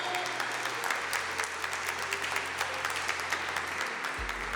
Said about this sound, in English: another round of applause, please, for your winner for that match